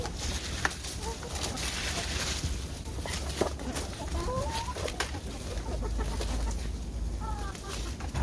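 Hens cluck now and then in a chicken run on a winter morning, soft calls scattered over a steady low rumble of background noise.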